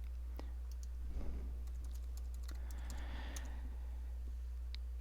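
Someone types a password on a computer keyboard: sparse, light key clicks in small clusters, fairly close, over a constant low electrical hum.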